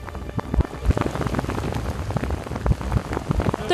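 Heavy rain pouring down in Shangri-La, Yunnan: a dense, continuous patter of drops hitting surfaces nearby, loud and unbroken, with no voices.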